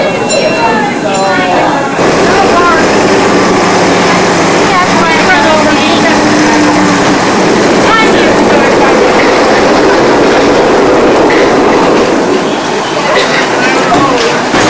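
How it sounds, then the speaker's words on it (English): A small ride-on live steam train rolls along continuously with rhythmic clickety-clack and metallic clinks, loud and close, while voices chatter over it. "I know it's a birthday train."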